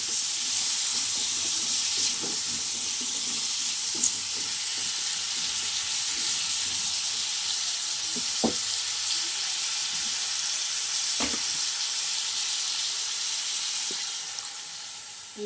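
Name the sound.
frying and stirring with salt and turmeric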